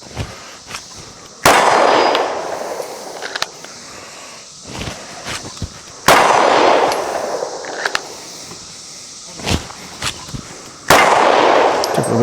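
Smith & Wesson M&P Carry Comp pistol fired at 15 yards, drawn from a holster: three loud, sharp reports spaced several seconds apart, each with a ringing clang and decay, faint handling noises between, no talk.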